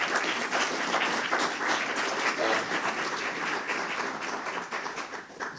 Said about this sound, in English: Round of applause for Brandon and Ashley, please.